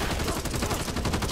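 Rapid gunfire in the zombie shooter Back 4 Blood, a dense burst of repeated shots in a fast, steady rhythm, loud and close, filling the whole moment with no voices over it.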